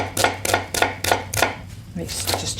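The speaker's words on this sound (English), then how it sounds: "start off with an onion. So just chop" An onion being chopped with a knife on a board: about eight crisp, evenly spaced chops, close and clear with no talk.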